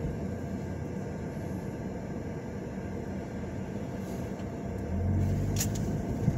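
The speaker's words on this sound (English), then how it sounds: "Let me get back on the road and do a little bit more driving around" Steady low road rumble from a car driving through downtown Elyria, Ohio, a continuous even drone with a slight swell near the end and no talk.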